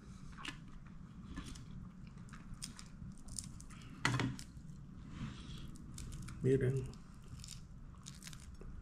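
Crunchy fried mojarra fish taco being bitten and chewed up close, with two sharp crisp bites standing out from steady low chewing, while people talk in the background.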